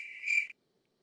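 A single short cricket chirp used as a sound effect, a clear high buzzing trill lasting about half a second, close and alone before sudden silence.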